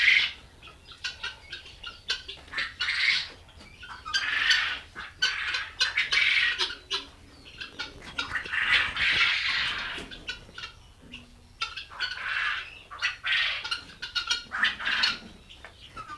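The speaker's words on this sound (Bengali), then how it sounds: "আমার এগুলা তিথি মুরগি ডিম পাড়া শুরু করেছে আবারও" Tithi hens cluck on a poultry farm in Bakshiganj, Jamalpur, with repeated short calls coming in irregular bursts over a quiet background.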